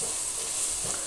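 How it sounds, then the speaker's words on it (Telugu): Curry leaves and green chili paste frying in a pan for curry leaf rice, a steady close sizzle with light stirring throughout, no talk. "ఇప్పుడు కరివేపాకు, పచ్చిమిర్చి పేస్ట్ యాడ్ చేసుకొని పచ్చి స్మెల్ పోయేంత వరకు బాగా ఫ్రై చేసుకోవాలి"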